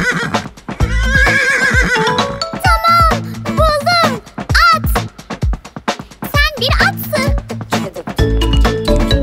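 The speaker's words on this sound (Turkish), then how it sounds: "Şekeri çok severim, işte böyle kişnerim." A horse whinnies with rising and falling tonal neighs among clip-clop knocks and bright jingling, loud and busy throughout, set within a children's song about animal sounds.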